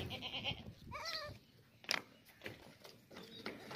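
A Boer goat bleats with a wavering, quavering cry amid quieter rustling and a few sharp knocks, fairly faint, with other goat bleats in the background.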